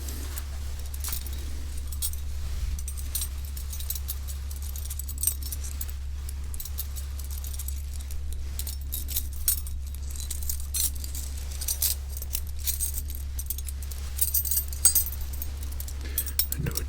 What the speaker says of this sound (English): So one of these keys here, let me find it for you.